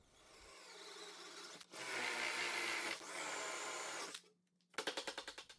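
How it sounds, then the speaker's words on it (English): Drill boring out a wooden dowel from pine leg joints of a shop cart built from construction waste, a steady loud whir in two long bursts, then a quick run of rhythmic pulses as the bit slows. "I had to drill out some of the dowel from the first joints."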